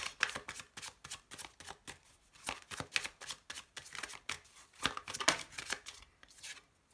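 Oracle cards are shuffled for a reading in a steady run of crisp riffling bursts. The sound is close and fairly quiet, with no voices over it.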